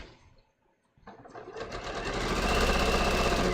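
A sewing machine stay stitches a dress seam in a bias V-neck dress, starting after a brief near-silent pause and running as a steady, close, continuous whir that builds in loudness and holds to the end.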